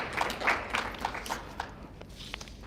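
Scattered, uneven clapping from a small audience at a community forum for a school superintendent search, a few hands patting briefly and thinning out within a couple of seconds.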